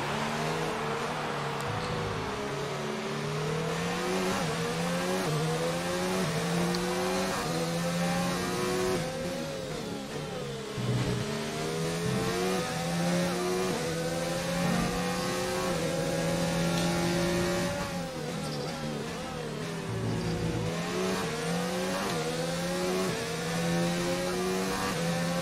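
A Formula 1 race car engine in the F1 2019 video game, droning loud and steady at high revs throughout with smooth pitch rises and falls as the car drives at race speed.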